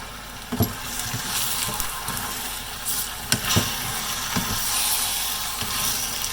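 Shallots frying in a pan while being stirred, with steady broadband sizzle throughout and a few sharp utensil scrapes and clicks against the pan; no talking.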